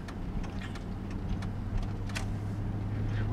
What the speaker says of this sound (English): Now we got a car coming up on our left.